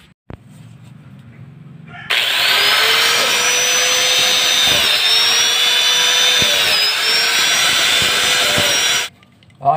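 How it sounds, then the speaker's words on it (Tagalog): An angle grinder fitted with a cutting disc grinds down the edges of a Rusi MP 125 motorcycle seat, heard as a loud, steady, high whine that starts abruptly and runs for about seven seconds before cutting off. "Gagamit tayo ng grinder."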